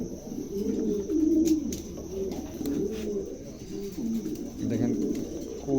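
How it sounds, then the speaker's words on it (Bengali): Soft, throaty pigeon cooing repeats steadily throughout, low and close, with occasional faint chirps. "কবুতরগুলো খুবই চমৎকার"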